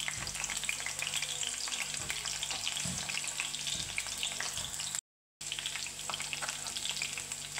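Green chillies frying in hot oil in a kadai, a steady loud crackling sizzle with stirring clatter throughout, broken by a brief gap of silence near the end.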